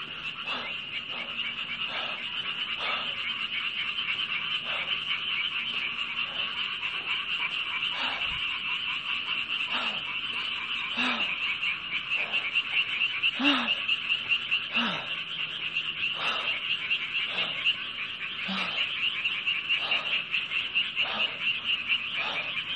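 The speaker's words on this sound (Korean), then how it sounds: "꼬리인 줄 알았는데 개구리 소리였네." Frogs croak at night in a dense, continuous chorus with sharp repeated calls over a steady trilling drone, fairly close and unbroken for the full length.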